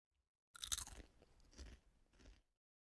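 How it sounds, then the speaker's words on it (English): Crunchy seaweed snack chewed close to the mic, a loud crisp bite and then a few seconds of steady crunching that trails off into silence. "the seaweed is good, especially it has that crunch"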